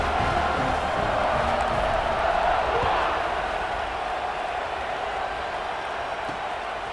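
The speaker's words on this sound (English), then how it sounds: "this crowd is buzzing after that last score" Football stadium crowd during the Tennessee versus Florida rivalry game, a dense, loud and steady roar after a touchdown that holds throughout and eases slightly toward the end, with faint talk underneath.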